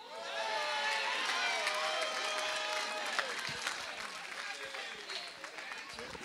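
A church audience at a Christmas-season service breaks into lively clapping mixed with cheers and excited voices, loudest at the start and easing slightly toward the end.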